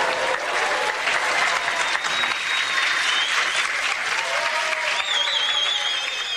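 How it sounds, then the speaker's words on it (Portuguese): An audience gives sustained, dense applause for minister Nísia Trindade at her farewell ceremony, steady and loud throughout with a few whistles and cheers mixed in. "foi ovacionada pela plateia"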